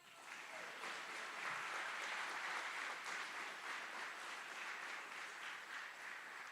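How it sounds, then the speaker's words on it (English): Sustained applause from an audience at an Army aviation brigade graduation ceremony honoring drill sergeants and instructors, a steady, dense wash of clapping that holds evenly throughout. "Please join us in giving another round of applause to these outstanding drill sergeants and instructors"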